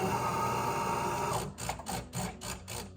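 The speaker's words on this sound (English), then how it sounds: "So now it's circulating the cleaning solution through the machine, and it should start coming out in a little bit." A De'Longhi Dinamica espresso machine on its descaling cycle gives a steady mechanical whir, then breaks into a rhythmic series of short pumping pulses, close and fairly loud.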